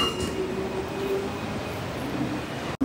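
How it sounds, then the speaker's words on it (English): A train in Tokyo's Odaiba area rumbles past steadily and fairly close, with a faint high whine riding over the broad noise. The sound cuts out abruptly just before the end, and no one speaks. "we will use this train"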